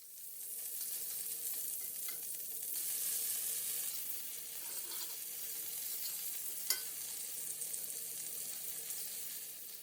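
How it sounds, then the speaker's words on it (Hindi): Bombil (Bombay duck) fish fries in a pan over a medium flame, giving a soft, continuous sizzle of oil with faint crackles and one small clink, with no talk. "अब इन्हें दूसरी साइड से भी 2 से 3 मिनट के लिए मीडियम फ्लेम पर फ्राई करेंगे।"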